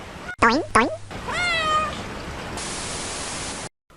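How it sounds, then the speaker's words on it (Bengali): A cartoon cat out in the rain gives two short high meows and then one longer wavering meow, loud and close, followed by a steady hiss of rainfall. "বাইরে একটা বিড়াল বৃষ্টিতে কান্না করছে"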